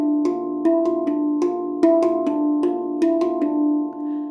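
A D Kurd handpan plays Carol of the Bells in a rolling, waltz-like rhythm, with about a dozen bright ringing strikes that each decay into a sustained shimmer, close and clear with no voice.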